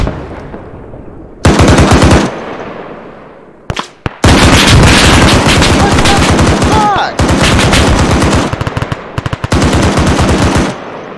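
An M2 heavy machine gun fires in a military video game, loud and close in long sustained bursts with brief pauses between them, the rapid rounds forming a hammering rhythm.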